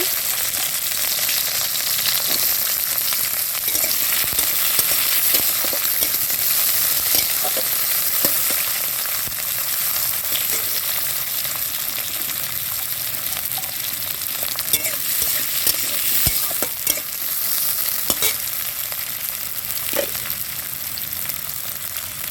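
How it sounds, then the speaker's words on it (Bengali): Bitter gourd slices fry in hot oil in a kadai, a dense continuous sizzle held close and loud, with scattered small pops and stirring scrapes across the whole stretch. "দিয়ে দেবো করলাগুলো। একটু তেলে ভেজে নেব।"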